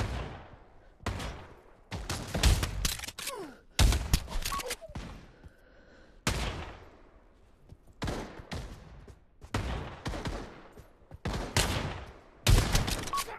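Gunfire in the VR shooter Pavlov VR, with repeated bursts of loud rifle shots in a battle, sharp cracks coming in clusters separated by short pauses.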